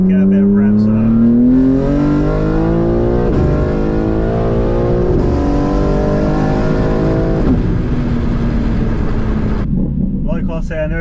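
An 820 bhp BMW G80 M3 with traction fully off revs hard in third gear on the street, its engine note climbing steadily in loud, close sweeps, with someone talking over it.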